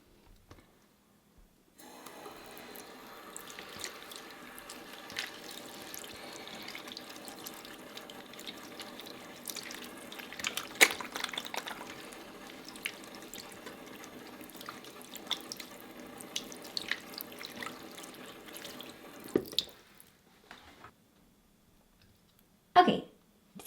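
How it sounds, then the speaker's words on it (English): A bathroom sink tap runs steadily while lemon-scented soap is rinsed off hands, a close, moderately quiet splashing stream with irregular spatters that stops abruptly, followed by a few drips and a brief loud clatter. "So let me rinse this off and get my hands dry,"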